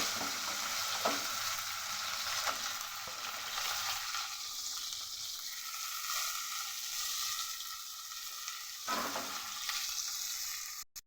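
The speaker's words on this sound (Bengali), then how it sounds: "প্রথমে উচ্ছেগুলোকে লাল করে ভেজে নেব" Bitter gourd sizzles steadily in mustard oil in a wok, a close, continuous hiss of frying broken by a few soft scrapes and stirs.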